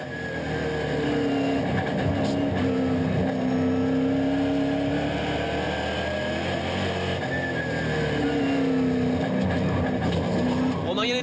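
Onboard a NASCAR Whelen Euro Series race car lapping Tours Speedway, the engine drones loud and constant, its pitch rising and falling through shifts and corners, with a commentator talking over it.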